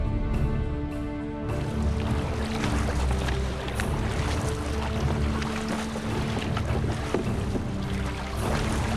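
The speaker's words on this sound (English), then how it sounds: "Everyone does his or her best to row the boat." Oars splash and knock rhythmically as a boat is rowed, over a constant broadband wash of water and a low engine-like hum.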